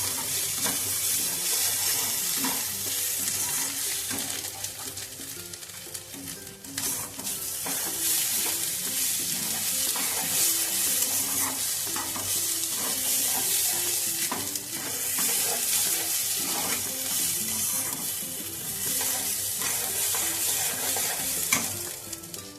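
Rice frying in a spoonful of ghee for peas pulao hisses and sizzles loudly and steadily throughout, with a continuous scratchy rustle of stirring and occasional scraping strokes close by.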